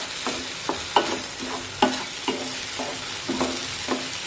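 Moong dal stirred in an uncovered kadhai with a spoon, loud scraping strokes repeating every half second or so over a continuous sizzle of frying.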